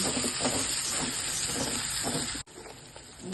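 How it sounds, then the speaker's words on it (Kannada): Onions frying in oil in a pan with dried red chillies and curry leaves for a brinjal sabji, a steady close hiss and sizzle that dips briefly near the end. "ಈಗ ಈರುಳ್ಳಿ ಹಾಕ್ಕೊಳ್ಳೋಣ. ಇದನ್ನು ಸ್ವಲ್ಪ ಕೆಂಪಗಾಗೋವರೆಗೂ ಹುರ್ಕೊಳ್ಳೋಣ."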